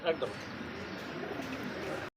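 Pigeons coo softly amid a steady wash of crowd noise at a busy pigeon market selling local and foreign breeds, the birds faint and blended into the background bustle.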